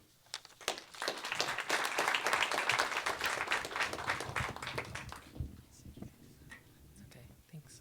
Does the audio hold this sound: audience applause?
yes